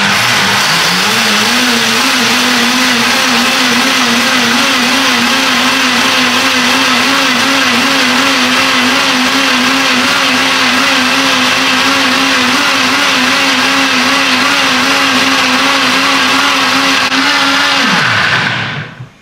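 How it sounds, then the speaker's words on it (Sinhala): An electric blender whirs loudly and steadily, blending coconut for Sri Lankan dodol, its motor tone holding constant for about eighteen seconds before winding down abruptly. "මම දැන් බ්ලෙන්ඩරේට දාලා බෙන්ඩර් කරගන්න යන්නේ."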